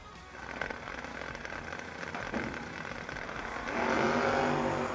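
Drag race cars, a 3rd gen Monza against a Camaro, rumble down the strip, the engine noise building steadily and growing loudest near the end, heard from a distance amid track ambience.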